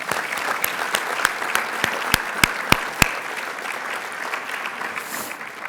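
Steady applause from an audience at a breakfast event, a dense wash of clapping with a few sharp, louder claps standing out early on, fading slightly toward the end.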